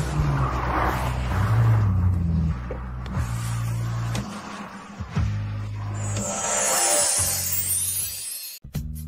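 A car drives along while following another car, a steady close engine rumble with shifts in pitch, a few sharp knocks and a tire-squeal-like rush near the end, no talking.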